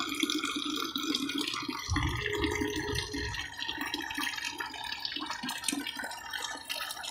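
Water flows from a simple bamboo bore well, a steady splashing stream with a heavier low gush for a moment partway through, close and continuous.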